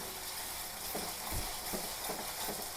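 Sardine pickle masala frying in a pan, a steady close sizzle with soft stirring scrapes recurring every half second or so, no voices.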